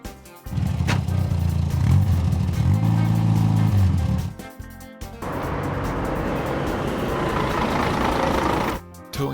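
Animated pole truck engine, loud and close, with harmonic revving that rises and settles, breaks off briefly, then runs on as a steadier broadband rumble before cutting out.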